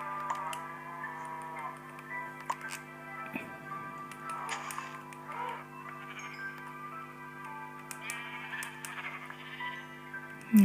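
Sheep bleat in Minecraft on PS Vita, several short game-sound baas over steady background game music and ticking, fairly quiet and with no talk.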